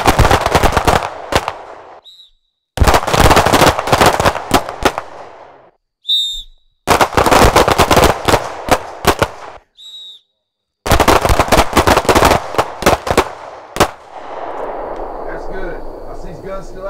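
Pistol gunshots during speed and accuracy shooting training, fired in rapid loud bursts of sharp cracks separated by short pauses, with brief ringing gaps between strings.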